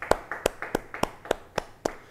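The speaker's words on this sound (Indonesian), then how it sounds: "Siapa yang percaya beri tepuk tangan bagi dia" Church congregation at a Bible study clapping hands in a slow, even rhythm, about nine distinct sharp claps close together, loud and clear with no talk.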